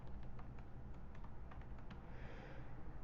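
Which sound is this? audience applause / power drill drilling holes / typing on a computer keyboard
typing on a computer keyboard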